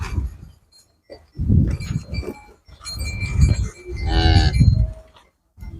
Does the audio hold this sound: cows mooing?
yes